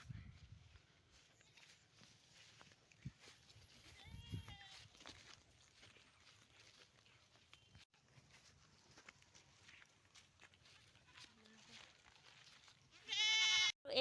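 Goats grazing in a field among paddy fields; a few faint bleats rise over quiet outdoor ambience, with rustling and a louder burst of sound right at the end.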